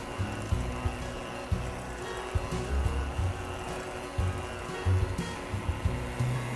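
An electric mixer runs at medium-high speed, beating very soft room-temperature butter for cookie dough, giving a continuous whirring drone with irregular knocks of the beaters against the bowl, close and steady with no talking.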